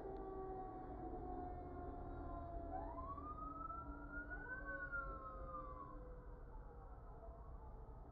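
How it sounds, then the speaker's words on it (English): Distant city emergency sirens heard through an open window rise and fall in overlapping wails above low traffic rumble, with no talking. "Sorry about the sirens, I have the window open."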